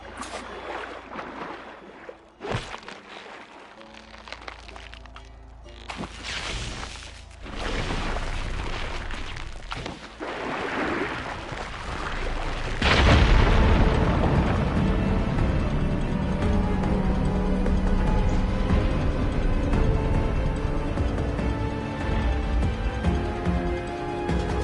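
A fire gleam in Horizon Forbidden West is ignited and explodes to clear rubble, giving a sudden heavy boom partway through that swells into a loud, lingering roar and rumble of collapsing debris over ambient game sound.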